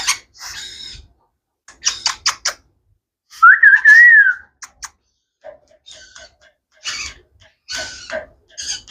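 A pet lory parrot at a Mirpur 1 bird market gives a loud, warbling whistle lasting about a second, set between short chattering calls and clicks that come in bursts, with no speech.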